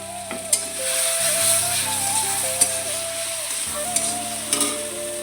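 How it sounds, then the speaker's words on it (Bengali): Spiced fish curry base with tomato fries in a pan while being stirred, a steady close sizzle broken by several sharp scrapes and knocks of the spoon against the pan. "নেড়ে চেড়ে কষিয়ে নিচ্ছি।"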